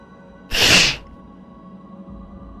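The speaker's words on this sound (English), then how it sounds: "I have to sneeze." A single sharp human sneeze bursts out loud and close, lasting about half a second against a quiet background hum.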